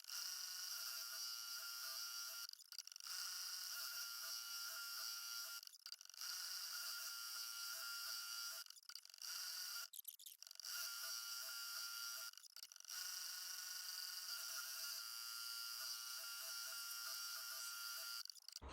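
An embroidery machine stitches a blue paw design with a thin, steady high whirring buzz, stopping briefly several times between runs, close and otherwise quiet with no talk.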